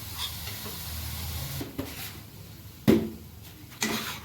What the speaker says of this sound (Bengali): তো এবার একসাথে মশলাটাকে ভালো করে কষানো হবে।